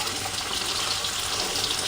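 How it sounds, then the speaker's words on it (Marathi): Chole masala roasting in a pan gives a steady, close, even sizzle and frying crackle throughout, with no voices. "हे छान भाजून घेऊया।"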